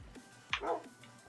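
A Minecraft dog gives a single short bark, fairly quiet and brief, against a faint game background.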